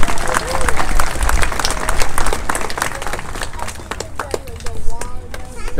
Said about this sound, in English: Give yourself a big round of applause for that.